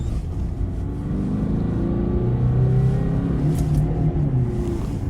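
Fiat Egea with a 1.3 Multijet diesel engine, heard from inside the car on a test drive, giving a steady loud drone that swells in a mild rev and throttle blip, with no talk.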